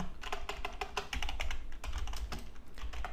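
A git command is typed on a computer keyboard, a quick run of close, crisp key clicks at a steady pace, ending with a firmer Enter press.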